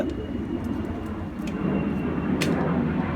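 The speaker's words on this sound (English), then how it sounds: "Oh, that's a plane." An airplane flies overhead outdoors, a steady broad roar that swells slightly as it passes, with no one talking over it.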